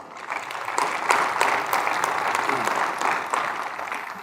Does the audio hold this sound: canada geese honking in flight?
no